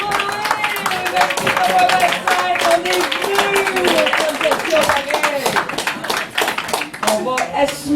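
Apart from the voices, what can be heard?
audience applause and clapping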